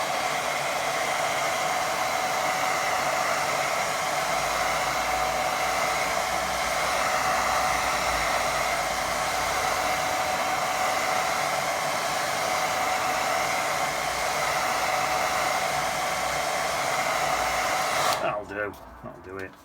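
A hair dryer on low heat blows over wet watercolour paint, giving a loud, constant whir that runs unbroken for most of the clip before switching off near the end.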